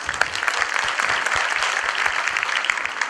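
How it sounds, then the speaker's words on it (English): Parents at a primary school Grade III event give students hearty applause, a steady, dense clatter of many hands clapping throughout, moderately loud and without speech. "Parents, I truly appreciate the thunderous applause that you gave"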